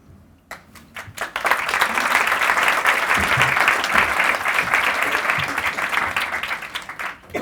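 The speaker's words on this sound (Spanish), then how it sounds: "Fuertes aplausos." Strong, dense applause from an audience after a presentation on the COP25 climate summit in Chile, rising quickly and holding steady and loud throughout.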